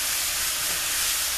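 Loud, steady hiss of cabbage frying in a hot pan, close and unbroken, with no voices.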